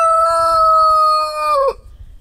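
A single chicken on a snowy, frozen farmyard lets out one long drawn call that holds steady, then dips and cuts off, close and fairly loud over faint low rumbling.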